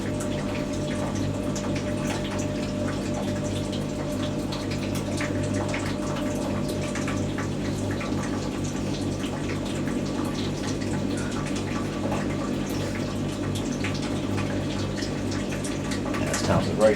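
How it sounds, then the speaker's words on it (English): Water from a Hotpoint WD64 Aquarius Extra washer dryer drains through a siphoned drain hose as a continuous, even gurgling flow with a low pump hum beneath it, close and unbroken for the whole stretch. "I use the Creed drain hose, and I use like a siphon to get it going,"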